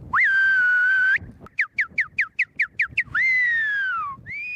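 A cattle rancher whistling to call cattle in Brazil: a long rising whistle, a quick run of short chirping notes, then another long sliding whistle, loud and close.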